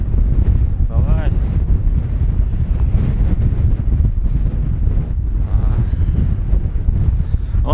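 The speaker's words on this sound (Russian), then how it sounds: "О, мощно как дует" Strong wind roars across a mountaintop during a rainy June ride, buffeting the microphone in loud, continuous gusts, with brief voices heard underneath.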